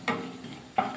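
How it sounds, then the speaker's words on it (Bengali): A spoon stirs whole spices, cinnamon, cloves, cardamom, dried red chillies and cumin, frying in oil, making two quick scraping strokes about a second apart over a soft, faint sizzle. "হালকা নাড়াচাড়া করে ভাজা করে নিয়েছি।"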